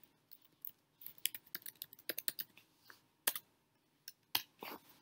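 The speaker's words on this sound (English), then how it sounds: "So if I were to type in admissions.tamucc.edu," Computer keyboard being typed on to enter a web address, a quick irregular run of close, crisp key clicks with short pauses between bursts, no voices.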